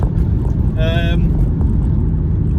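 A Honda Civic Type R FN2 with about 225 brake horsepower drives along, its steady engine and road rumble filling the cabin throughout, with a brief whistling tone in the middle and someone talking over it.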